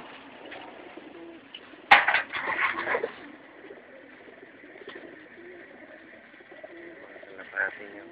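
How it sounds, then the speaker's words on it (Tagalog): Racing pigeons from a pigeon club, over 300 birds, just released from a truck during training, with soft cooing and bird calls over steady outdoor background noise, plus a sharp clatter and flutter near the start. "Ayan mga kalapati."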